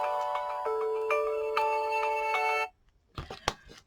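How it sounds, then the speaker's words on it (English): Mobile phone ringtone going off indoors during scrapbooking with glue, a melodic repeating electronic tune playing loudly for over two seconds before cutting off, followed by a few brief rustles and clicks. "phone going off."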